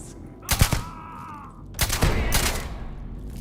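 Gunfire in the space game Starfield: two loud bursts of shots close by, each a quick cluster of cracks, separated by a brief lull with a faint tone and low background hum.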